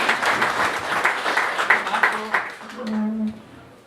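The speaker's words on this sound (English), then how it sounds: "Give him a huge cheer, a huge round of applause for White Chocolate" Applause and cheering from a press-conference audience for a boxer at a Derry fight event, a dense burst of clapping for about two and a half seconds that fades, with voices rising under and after it.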